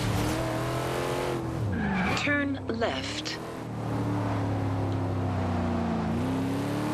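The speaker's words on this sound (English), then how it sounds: "this thing revs like you wouldn't believe" A race car in the Forza Horizon 2 racing game revs hard with a sustained engine drone, briefly skidding with tire squeal in the middle, while a navigation voice speaks over it.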